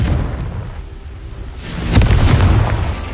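Confringo fire-blast spell from the game Hogwarts Legacy bursts into a dull booming explosion with a crackling whoosh, rising from a rumbling background and lingering for over a second.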